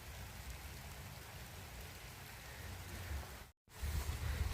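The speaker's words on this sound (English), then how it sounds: "It's raining." Rain falls steadily on a rainy day in a village garden, a soft continuous patter and hiss throughout, broken by a brief cut of silence near the end before resuming.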